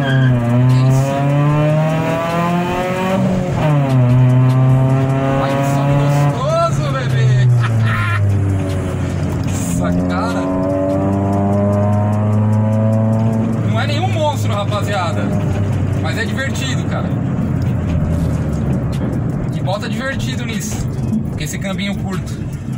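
Chevrolet Celta 1.0 VHC-E with a naturally aspirated engine and weight reduction, revving up through the gears in clear rising harmonic sweeps, heard loud from inside the cabin with someone talking over it.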